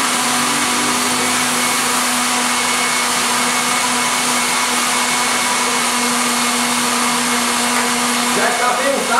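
An electric blender on its lowest speed mixes orange cake batter, giving a loud, steady motor whir with a constant hum that runs unbroken throughout and a brief clatter near the end.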